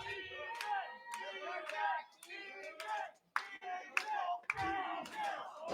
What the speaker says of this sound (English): And the crowd really behind Laredo here